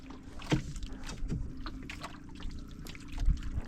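A small boat moves through the water and gives off irregular splashes and dribbling sounds. Wind and faint distant activity sit behind it, and the splashes come in uneven bursts.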